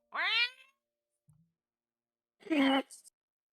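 A human voice imitates a cat's meow, giving one rising, harmonic meow followed by a second strained, wailing meow, close and fairly loud with a quiet pause between them.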